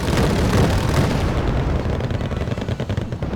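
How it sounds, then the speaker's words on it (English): Artillery shells pound a forward operating base in the Wargame Red Dragon strategy game, a dense roar of overlapping explosions that starts loud and thick, then breaks into rapid separate booms and rumbles as it eases off, with no voices. "Meanwhile, on the ground, this FOB is getting bombarded"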